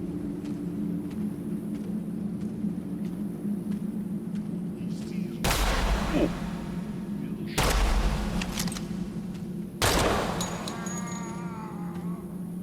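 Heavy gunfire in the video game Project Silverfish, three loud booming shots several seconds apart over a constant droning background hum.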